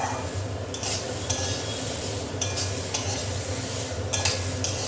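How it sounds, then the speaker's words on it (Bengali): Chopped vegetables for a moong dal fry in a hot pan with a constant sizzle, broken by a few sharp bursts of a spatula stirring and scraping. "সবজিটাকে একটু ভেজে নিই"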